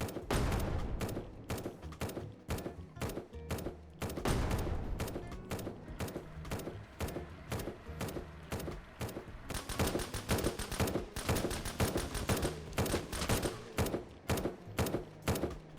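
Rapid bursts of automatic gunfire from the survival shooter Surroundead crackle almost nonstop, sharp repeated shots in dense volleys with brief gaps, growing even thicker toward the end.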